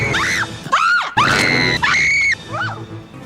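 A woman in a Batman film lets out a series of loud, piercing screams, several long wavering shrieks close up, with a short break in the middle.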